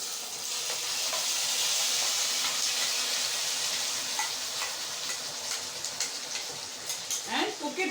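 Onion paste fries in a pan with a dense, loud hissing sizzle that eases slightly, followed by soft stirring scrapes and ticks toward the end.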